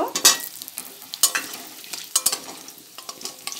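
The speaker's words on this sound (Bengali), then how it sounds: "আলুটাকে ভালো করে ভেজে নেব" Potatoes coated with salt, turmeric and chilli powder fry in hot oil in a pan, a close sizzle broken by repeated scraping stirs, with no talking.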